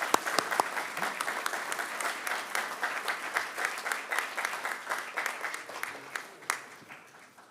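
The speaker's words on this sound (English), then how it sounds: "One more big round of applause for our graduates." A crowd applauds graduates at an MBA hooding ceremony, with dense, steady clapping and sharp individual claps standing out, sustained for several seconds at moderate level.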